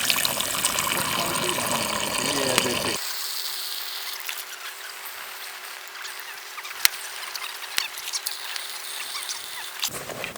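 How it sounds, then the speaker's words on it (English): Wine from a cask poured into a cooking pot at a campsite on a vast salt lake, a gushing pour at first, then a softer steady trickle with a few faint clicks. "Add the wine."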